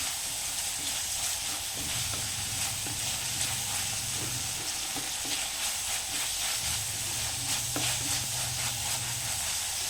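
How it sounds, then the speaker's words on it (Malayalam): Chopped tomato being stirred into a pasta mixture in a hot pan, giving a steady sizzle and frying hiss with scraping stir strokes, close and continuous with no talk. "ഞാനൊരു ചെറിയ തക്കാളി ചെറുതരിഞ്ഞ് വെച്ചിട്ടുണ്ടായിരുന്നു അതും കൂടി ആഡ് ചെയ്യുന്നുണ്ട് നമുക്കൊന്ന് മിക്സാക്കി കൊടുക്കാം"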